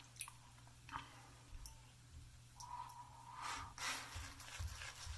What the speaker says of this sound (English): lathering soaps